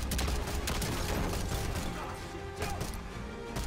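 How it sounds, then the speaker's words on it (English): Continuous dense gunfire from a player's unlimited-ammo weapon in Call of Duty: Black Ops 6, loud and sustained with rattling mechanical clatter and scattered impacts, no talk. "I kept on shooting my teammate."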